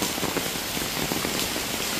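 Heavy monsoon rain in Lakshadweep in the evening, a dense, steady hiss of downpour pattering hard on surfaces nearby, loud and continuous with no voices.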